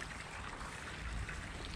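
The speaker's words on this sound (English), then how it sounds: "Got a little waterfall thing there going." Small waterfall at Whittington Castle, a steady low rush of falling water heard close and continuous, with broadband splashing noise and no voices over it.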